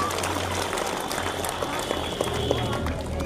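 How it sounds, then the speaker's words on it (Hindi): Applause from an audience at a school Republic Day event, a dense, steady clatter of clapping that stays loud and even for a few seconds, with crowd noise mixed in. "तो जरूर से ताली मार दीजिए अपने नाम पे सभी।"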